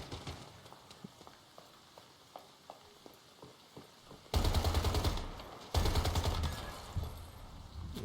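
Gunfire in the video game Once Human: a few quiet shots and clicks at first, then two loud sustained bursts of rapid automatic fire, close and dominant, with scattered single shots after them.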